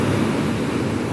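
Big typhoon-driven waves churn a murky sea off Palawan, a continuous close roar of surf and wind noise with no pauses and no voices.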